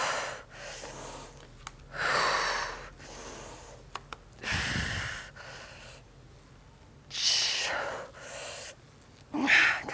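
Heavy exhales and panting breaths come in repeated bursts during a dumbbell and resistance band HIIT workout at home, close and loud, separated by short quieter pauses.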